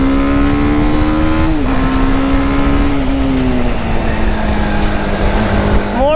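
A TVS Apache RR310 motorcycle engine drones steadily while being ridden hard with all riding modes unlocked. The pitch dips briefly a few times as it shifts, loud and close throughout.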